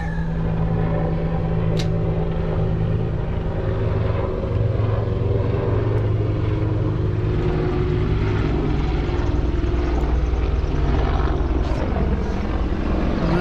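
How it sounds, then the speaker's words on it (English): A steady, loud Apache helicopter drone with a low rotor throb and engine whine, continuous and unchanging throughout, no voices. "Apache helicopter."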